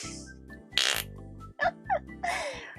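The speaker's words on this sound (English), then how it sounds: "Here, I'll give you guys a nice big fart noise." Flarp noise putty squeezed in its small tub to make fart-like sounds, several short, wet, squelching bursts of varying length separated by brief pauses, close and fairly loud, with a low steady hum underneath.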